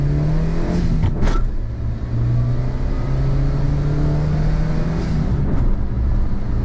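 A Suzuki Wagon R accelerates hard, its engine droning loud and close from inside the cabin with a steady rising pitch, brief shifts around one and five seconds, and road rumble underneath.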